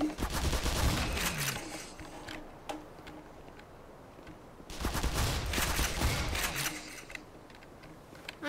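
Machine-gun fire in the video game Black Mesa, two loud bursts of rapid automatic shots with a quieter stretch of scattered pops between them.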